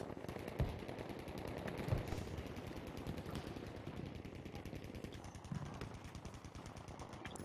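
Machine gun fire in Battlefield 5, a fast unbroken rattle of rounds that runs the whole way through, fairly quiet and steady, with a few heavier thumps mixed in.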